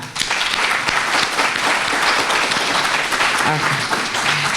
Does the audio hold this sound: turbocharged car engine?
no